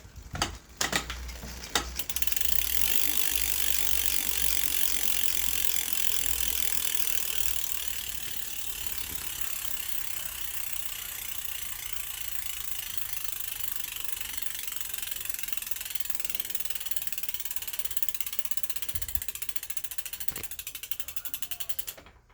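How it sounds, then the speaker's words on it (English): Rapid, continuous ratchet clicking of a Quando bicycle freehub, loud at first for several seconds, then steadier and slightly quieter as it keeps spinning. "you hear that engagement on this Quando hub"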